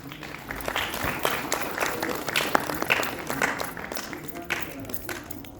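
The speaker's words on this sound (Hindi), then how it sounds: "कृपया जोरदार तालियों से आप" Applause at a retirement ceremony at IVRI Bareilly, honouring a head of the biochemistry department: a steady patter of clapping from a seated audience, moderately loud and sustained for several seconds without letting up.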